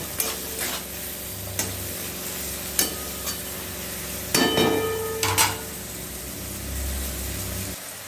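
Vegetables for veg chowmein frying in a pan with salt, a continuous close sizzle punctuated by sharp spatula scrapes and clatters, plus a low steady hum in the background.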